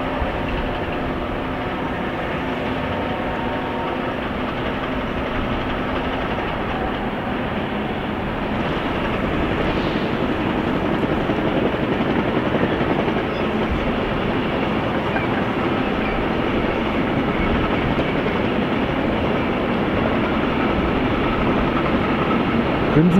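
Trains at a station in Gemünden am Main, one pulling away while another passes, give a loud, steady rumble of wheels and rail noise that swells slightly midway and holds.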